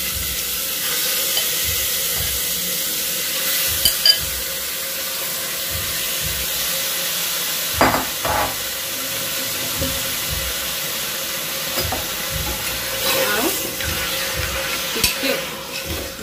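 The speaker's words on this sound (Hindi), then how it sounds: "खाली मटन रो कलर चेंज हेबार तक हाई फ्लेम रे भाजी देमा" Mutton sizzles in hot oil inside a pressure cooker on a high flame: a steady, loud frying hiss with occasional sharp clanks as the meat is stirred.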